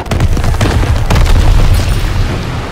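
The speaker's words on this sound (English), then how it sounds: "Lob it a grenade! Tossing a smoke grenade!" In the Call of Duty: WWII video game, a grenade detonates as a loud, heavy boom with a rumbling low-end tail that rolls on for a couple of seconds under battlefield noise.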